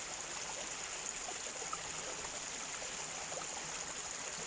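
A stream flows in a soft, continuous babble with faint trickles and gurgles, steady and fairly quiet, with no one speaking.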